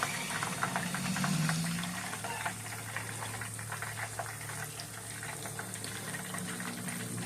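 Battered shrimp deep-frying in hot oil, a steady bubbling sizzle that holds at an even level throughout with faint crackles, close and unaccompanied by talk.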